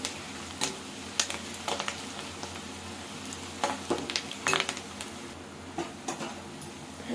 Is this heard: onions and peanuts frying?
yes